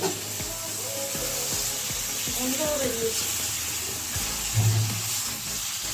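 Jackfruit and prawn curry sautéing in a pan gives a steady, close sizzle and frying hiss throughout, with a few light scraping clatters and a soft knock near the end.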